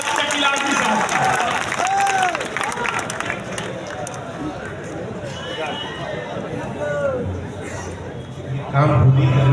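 Applause and cheering rise from a large audience at an All India Mushaira poetry gathering in Varanasi, a steady dense wash of clapping and crowd noise that holds for several seconds before swelling louder near the end.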